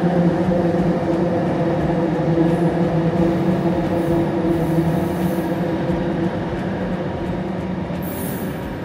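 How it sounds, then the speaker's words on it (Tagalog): A train runs through a building in Kuala Lumpur near the KLIA Express terminal, a loud continuous rumble with tonal hum and faint high squeals, steady for several seconds before easing slightly. "Kasi tumatagos yung train sa building."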